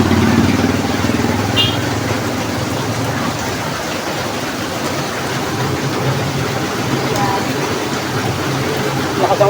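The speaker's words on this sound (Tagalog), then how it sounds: "Lakas ang ulan, no?" Heavy afternoon rain pours in a steady, loud hiss that never lets up, with a passing motorcycle and some people murmuring faintly in the background.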